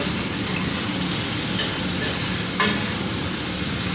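Chicken pieces sear with spices in a pan over a high flame for a light chicken and potato curry, giving a loud, continuous, close-up sizzle with a few faint scrapes and no talking.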